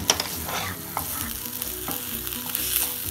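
Masala for fish biryani frying in a pan as vinegar is poured in, giving a steady close sizzle with stirring and scraping clatter throughout, no voices.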